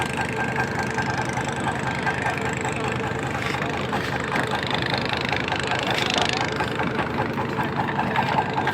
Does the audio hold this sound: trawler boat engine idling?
yes